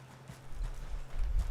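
Horse hooves clip-clopping at a steady trot in Red Dead Redemption 2, close and rhythmic over a low hum.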